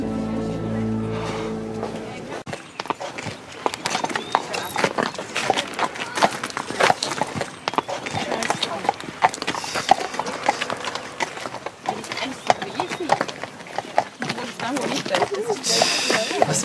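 Horse hooves clip-clop on a ride, a busy stream of close, uneven hoof knocks and clatter running throughout, with a brief tonal sound at the start before the steps begin.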